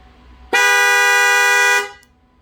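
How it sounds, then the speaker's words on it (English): A single loud Honda Civic Type R car horn blast sounds steadily for over a second, then cuts off, close and alone. "here is for the FK8, which has the pilot horn"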